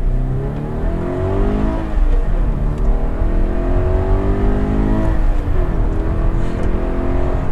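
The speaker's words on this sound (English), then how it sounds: "so now from first gear, kind of accelerating" A Scion FR-S accelerates from first gear, its engine note climbing steadily in pitch from inside the car, loud and continuous with no talk over it.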